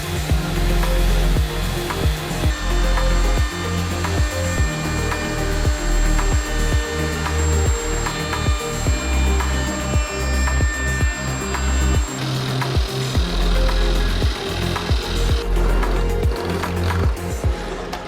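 Rhythmic scraping strokes of sandpaper, up to 320 grit, on a wooden serving board, repeated back and forth at a steady pace, close up, with a faint constant hum in the background.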